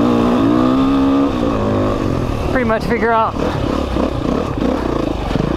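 A motorcycle engine revs hard and climbs through its rev range, loud and close, with a steady rising drone and sharp pitch sweeps while someone talks over it.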